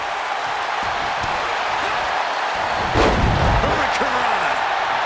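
A wrestler crashes onto the mat from a side Russian leg sweep in a WWE video game, one heavy thud rising above a constant roaring arena crowd.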